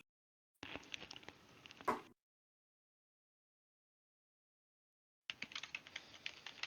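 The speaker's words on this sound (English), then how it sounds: "We all start typing." Quick clattering keystrokes on a computer keyboard, typed in a quiet room, come in two separate bursts with a long silent gap between them.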